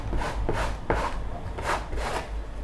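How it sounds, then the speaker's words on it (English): A credit card rubbed firmly across a cloth laid over a printing surface, giving a series of rough, scraping strokes in an uneven rhythm, close and fairly loud. "get a card or a credit card and then rub that surface"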